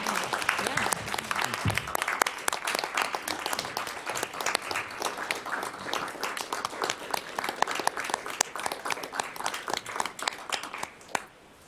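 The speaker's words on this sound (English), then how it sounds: "we're going to give you a big round of applause" A big round of applause fills a fire commissioners' board meeting, honoring a soon-to-be-retired battalion chief: dense, steady clapping from the audience lasting the whole stretch, then tapering off at the very end.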